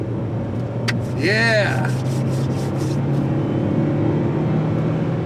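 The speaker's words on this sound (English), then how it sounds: "The car's loud enough as it is." Car driving on the road while storm chasing in Arkansas, a steady low engine and road rumble throughout, with a short squeaky chirp and a brief word spoken near the start.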